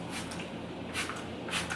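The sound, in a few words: spray bottle spraying water on hair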